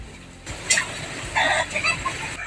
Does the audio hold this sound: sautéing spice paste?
no